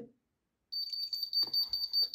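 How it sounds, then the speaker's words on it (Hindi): A bench power supply beeps in a fast, continuous high-pitched pattern as a Nokia mobile phone with a full short is connected during repair, with faint clicks and handling noise beneath. "देखिए मसलसल बीप आ रही है मतलब ये कि फुल शॉट है"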